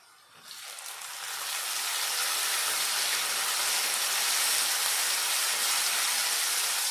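Prawns frying in a pan for a prawn curry give a loud, steady sizzle that bursts in after a quiet start and then holds as a dense, even hiss.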